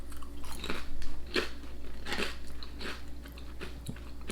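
Crunchy U.K. crisps, pork-flavoured with bacon and fig notes, are bitten and chewed up close in a run of sharp, irregular crunches over a quiet background, with no talking.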